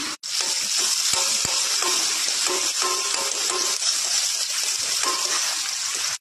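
Chopped onion fries in mustard oil in a kadai along with dried red chilli, bay leaf and panch phoron, a close, steady sizzle with small crackles and pops, no voices over it.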